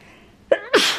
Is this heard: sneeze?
yes